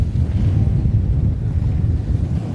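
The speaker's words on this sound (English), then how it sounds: "We got a boat right here." Loud wind buffets the microphone over a low rumbling wash of water, a steady roar like being out on open sea with no voices.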